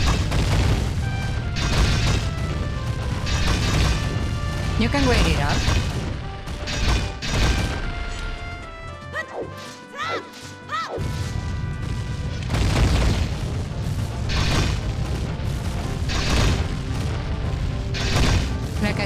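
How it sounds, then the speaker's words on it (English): Booming blasts and crashes from Dodongo's Cavern in Zelda: Ocarina of Time ring out repeatedly over dense game music and effects, with a brief quieter gap midway before the loud din resumes; a voice speaks briefly. "we have the explosions."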